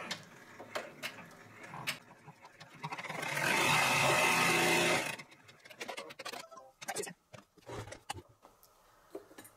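A multi-needle embroidery machine stitches for a few seconds in a dense, steady whir, framed by faint clicks and taps before and after.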